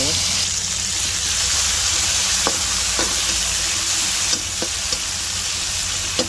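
Garlic and onions sautéing in a pan after tofu and bangus, a loud continuous sizzle with scraping stirs and a few sharp clicks, a voice talking beneath.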